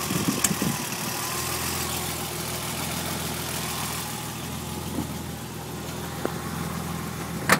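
A 1988 BMW Hartge H26 with a 2.5-liter six-cylinder engine and Hartge header idles steadily, a continuous mid-low engine hum that stays close and even throughout, with a slight rise at the very end.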